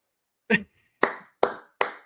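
Clapping from a played recording of people applauding after a remark, heard as four sharp, separate claps that fall closer together toward the end, rather than a full wave of applause.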